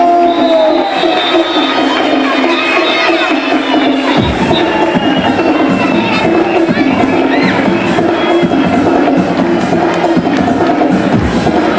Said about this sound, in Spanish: vamos a ese aplauso.